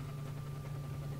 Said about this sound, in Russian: где-то тут должен быть какой-нибудь моторчик такой